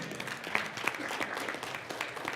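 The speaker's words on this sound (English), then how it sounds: "Stop clapping." Church congregation clapping during a sermon, a dense steady wash of applause with a few sharper claps standing out, moderately close throughout.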